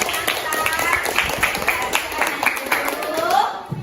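A classroom of students claps for a classmate, a loud burst of close, uneven handclaps that runs for a few seconds, with voices and a rising cheer mixed in toward the end.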